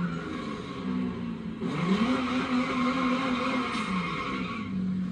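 A 1987 Buick Grand National GNX in a video game roars steadily while its tyres squeal in a long drifting skid, the engine note rising and then holding.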